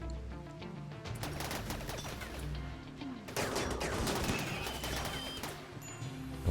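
Berserk pawns trade gunfire in the video game RimWorld, with quiet, rapid bursts of shots crackling in clusters across a short exchange.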